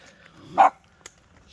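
A single sharp bark from a guard dog rings out at night in the remote Scottish countryside, moderately close, followed by a faint short yip and otherwise quiet surroundings.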